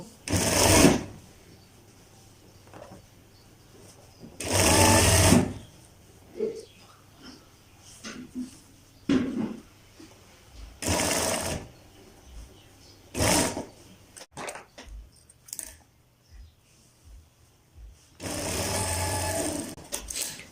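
Sewing machine stitching the sleeve of a kalidar kurta, running in several loud bursts of rapid whirring separated by quiet pauses and small handling noises, close by with no talk.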